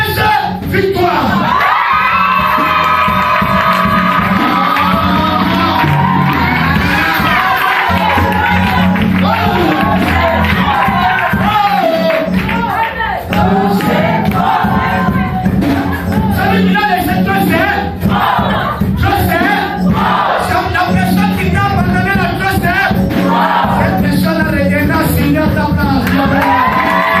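A church congregation cheers and shouts loudly to welcome the bride, prophetess Victoire, with sustained crowd roaring, whoops and overlapping voices alongside music-like tones for the whole span.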